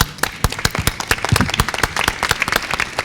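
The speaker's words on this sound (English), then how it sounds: "A round of applause for them." Applause for panelists at the close of a workshop on financing urban infrastructure, a modest crowd clapping with distinct, irregular individual claps, close and fairly loud, without talk.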